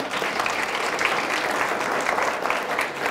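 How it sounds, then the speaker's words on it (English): Students and audience at a junior high school mayoral forum applauding a candidate as he is introduced: a thick, even roar of clapping from a large room, loud and sustained across the whole clip, no speech. "a round of applause, please, for Larry Heather."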